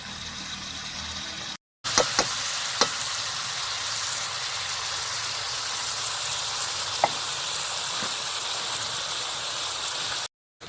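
Chicken pieces frying lightly in oil over a night picnic cooking fire, giving a steady broad sizzle with a few sharp spatters and pops, close and continuous with brief gaps at the start and end.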